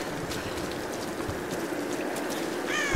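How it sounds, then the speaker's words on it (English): Steady rain falling in the Tomb Raider video game, a constant hiss of drops filling the scene with a few faint higher chirps on top, unbroken for the whole stretch. "This rain, though, just doesn't seem to let up"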